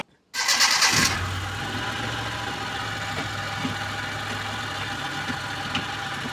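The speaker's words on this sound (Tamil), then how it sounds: "இப்போ வாங்க ஸ்டார்ட் பண்ணி நம்ம கியர் போட்டு பார்த்துக்கலாம்" A Maruti Omni van engine starts with a brief cranking burst after a moment of silence, then settles into a steady, close idle with a faint rhythmic knock, no talking.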